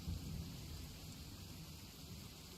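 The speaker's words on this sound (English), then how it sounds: "the sound of thunder is quite startling" Distant thunder during a storm, a faint low rumble rolling under steady rain on surfaces, quiet and continuous with no voices.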